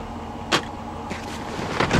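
The third-row seat mechanism of a 2012 Dodge Durango R/T, with a sharp lever click followed by softer mechanical clunks and a double knock as the seat releases, close inside the quiet cabin.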